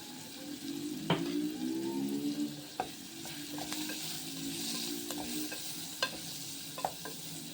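Onions frying lightly in a pan give a gentle sizzle under repeated sharp scrapes and taps of a spoon stirring, close and with no voices.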